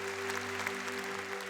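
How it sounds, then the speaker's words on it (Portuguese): Congregation at a Sunday Mass claps for the sacrament of confirmation, a soft, diffuse patter of many hands heard at a distance over a steady organ-like hum. "Uma salva de palmas ao Espírito Santo, que nos confirma pelo sacramento do crisma."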